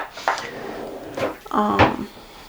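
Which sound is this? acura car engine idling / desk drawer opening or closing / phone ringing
desk drawer opening or closing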